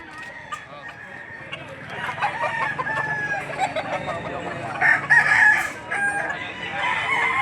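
A Boston Roundhead gamecock rooster at a farm in Lipa City, Batangas crows loudly and close by in a couple of drawn-out bursts, with softer clucking and other fowl noise running throughout.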